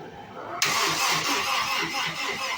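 A Mazda RX8 fitted with a swapped Honda S2000 F20 engine cranks and catches about half a second in, jumping to a loud, rough idle that stays close and steady until the end.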